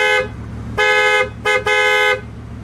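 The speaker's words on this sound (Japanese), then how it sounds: "最後に、2億円のクラクションを聞いてみましょう。" Horn of a Bugatti Veyron supercar sounding in three loud, close blasts: a medium-length toot, a short gap, then a brief toot followed immediately by a longer held blast, with no talking.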